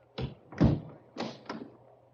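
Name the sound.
salon door being shut and locked, radio drama effect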